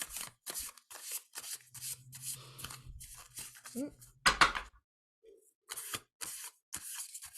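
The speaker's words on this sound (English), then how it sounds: "I'm going to shuffle." Tarot cards are shuffled in short, papery bursts of riffling and rubbing, separated by brief pauses, with quiet talk in between.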